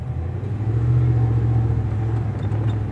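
An off-road vehicle at a mud bog roars with a deep, loud engine, swelling as it revs and then holding a sustained rumble close by.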